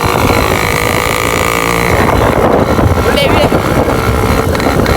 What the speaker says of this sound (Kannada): ಇವತ್ತು ಹೊಡ್ಯಾತಾನ RX ಸೌಂಡ್ ಕೇಳ್ರಿ